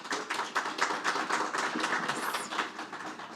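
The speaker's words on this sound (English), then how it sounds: "I think that deserves a round of applause." A conference audience at a securities and exchange commission session breaks into steady applause, many hands clapping in a dense, moderately distant patter that carries on throughout.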